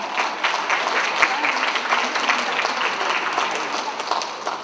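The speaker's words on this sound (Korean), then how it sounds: "박수 한번 부탁드리겠습니다." An audience at the opening ceremony of the 2023 Gwangju Able Art Fair, an art exhibition, applauds for the sign language interpreter with steady, dense clapping that stays fairly loud throughout and includes one sharper clap.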